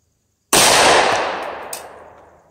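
A single loud Tokarev pistol shot fired at a target, sudden and close, with a long fading echo and a faint metallic ping partway through the decay.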